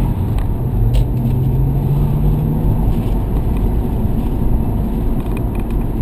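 An Audi car drives steadily on the road, giving a continuous low rumble with a smooth rising engine whir partway through, heard from inside without talk.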